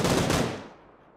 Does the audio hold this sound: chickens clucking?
no